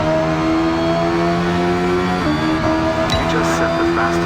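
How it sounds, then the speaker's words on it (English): Brabham BT24 race car engine droning on the Jarama circuit in the video game Hot Lap Racing, a steady loud engine tone throughout with a brief gearshift dip midway, with speech mixed into the sound. "Here's the Brabham BT24 on the Jarama circuit, which is a car which raced on this track at the time."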